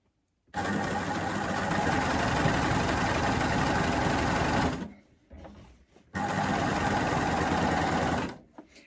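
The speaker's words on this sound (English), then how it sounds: "I'm sure you don't want to see me stitch row after row after row" A coverstitch sewing machine runs loud and close while stitching rows on plaid fabric for a satchel bag, a steady motor whir for about four seconds, a brief pause with faint handling, then another long steady run.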